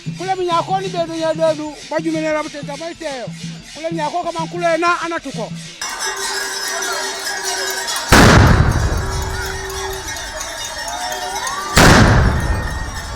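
Two heavy booming blasts of cannon fire at a ceremony, a few seconds apart, each loud with a long rumbling decay, following earlier talk and music.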